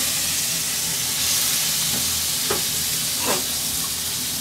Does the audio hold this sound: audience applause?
no